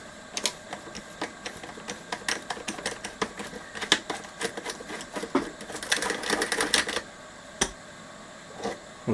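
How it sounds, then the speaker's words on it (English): A ratchet with an 8mm socket undoes the nuts on a Tom Evans Mastergroove SR mkIII preamp. It gives rapid, close mechanical clicking in bursts, denser near the middle, with short pauses. "Just going to go with the 8mm socket."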